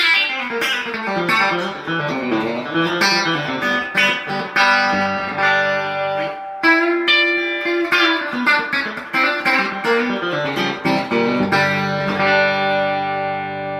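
Stratocaster-style electric guitar through a tremolo effect playing chords and melodic lines, with a shimmering, pulsing modulated tone and lush effects, loud and continuous with no talking.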